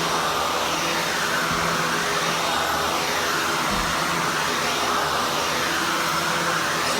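Hoover Hushtone 15 upright vacuum cleaner running on boost speed, a steady, fairly quiet whooshing drone with no breaks and no talk.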